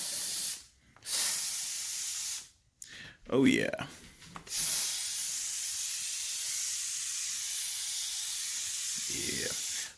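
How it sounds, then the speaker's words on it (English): A garment steamer puffs steam over a collared shirt, giving long, steady hissing bursts broken by short pauses, with a brief spoken remark between them. "Give it a little bit of steam here."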